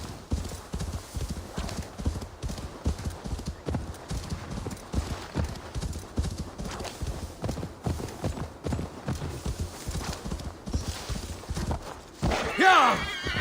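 A horse gallops through snowy territory in the video game Assassin's Creed Valhalla, its hooves beating in a steady rapid clip-clop throughout, with a whinny near the end. Someone talks over the hoofbeats.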